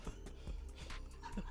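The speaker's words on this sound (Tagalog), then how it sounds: "distraction ng aso mo." A dog close by makes short, soft whimpers and yips, a few brief cries over a steady low indoor hum.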